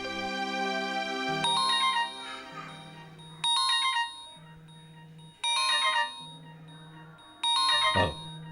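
A phone ringtone plays four times at regular intervals, a bright chiming melodic tone that rings out clearly and fairly loud over a soft steady background.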